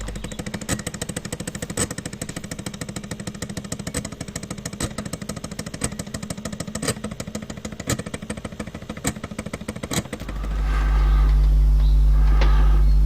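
A small laser engraving machine burning the word Parmesan onto a kitchen grater, giving a rapid, regular buzzing pulse train for about ten seconds before stopping abruptly, followed by a low steady hum.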